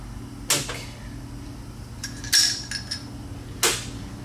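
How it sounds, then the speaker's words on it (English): Slide hammer pulling apart a KTM motorcycle engine in a workshop: three sharp metallic impacts about a second apart, each with a short ringing clank, close and loud with no talking. "So now, slide hammer, let's suck it apart."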